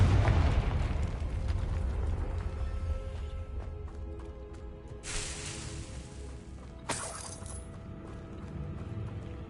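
The Confringo fire spell bursts in the video game Hogwarts Legacy, a loud booming explosion with a long rumbling decay, followed by two shorter whooshing bursts.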